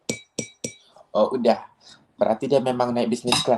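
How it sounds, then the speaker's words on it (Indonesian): A drinking glass is tapped three times in quick succession, each tap a bright, ringing clink, followed by a few fainter clinks before a voice talks over the remaining moments. "Kak tolong dong sedikit aja ketukkan gelas,"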